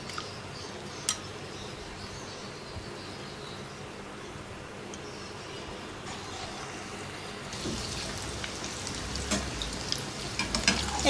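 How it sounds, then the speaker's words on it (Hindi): Potato chicken kababs dipped in egg fry in hot oil with a steady close sizzle that swells louder and crackles more sharply toward the end, with a few faint ticks and no talking. "अब कबाबों को एग में डिप करेंगे और फ्राई कर लेंगे"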